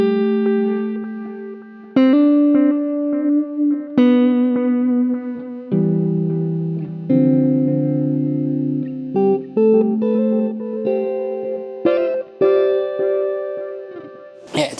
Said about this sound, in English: It also has an analog delay modeled after the BBD delay or Bucket Brigade device delay.